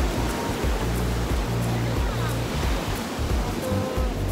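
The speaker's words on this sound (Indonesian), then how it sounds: "Ombaknya besar sekali dan pantainya tuh bagus." Large ocean waves breaking at Karmakandara Beach, a sandy shore lined with cliffs, roar as a steady, loud, close wash of surf with continuous rumbling and no clear gaps.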